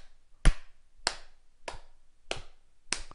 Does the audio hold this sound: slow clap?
yes